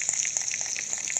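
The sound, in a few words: bread frying golden in a pan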